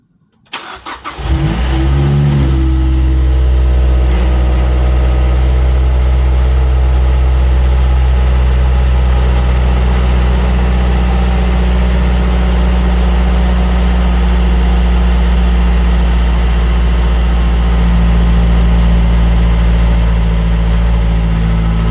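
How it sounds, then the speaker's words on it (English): A Mazdaspeed 3 engine cranks briefly and catches, then settles into a loud, steady idle that drones on close by for about twenty seconds, just after an oil catch can install. "We're gonna start it up and see what she does."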